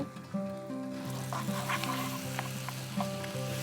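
Date paste of soaked, chopped dates being stirred in a pan over lowered heat, a steady soft scraping with a low frying sizzle running throughout, close and continuous, no voices.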